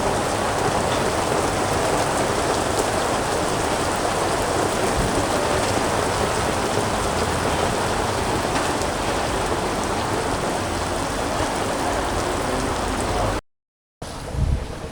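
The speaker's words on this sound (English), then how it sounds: "the weather kind of turned against me and started to pour" Heavy rain pouring down steadily in Heidelberg's old town, a dense, loud, even hiss of drops on surfaces lasting about thirteen seconds before a sudden cut to silence.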